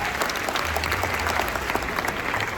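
Applause from an audience at a youth tour event, steady and fairly loud throughout with possible background music underneath.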